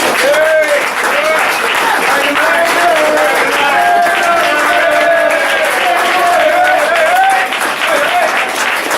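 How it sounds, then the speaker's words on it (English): A loud, sustained burst of applause fills a meeting hall as the audience is thanked, with voices calling out and carrying over the continuous clapping throughout. "give yourselves all a big applause because you've been brilliant"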